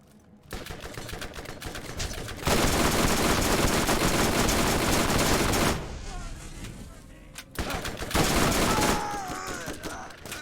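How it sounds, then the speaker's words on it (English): Submachine gun fire in the video game Borderlands GOTY Enhanced Edition comes in loud rapid bursts, with a long sustained stretch in the middle and shorter volleys before and after, mixed with game effects and some voices. "My sniper SMG."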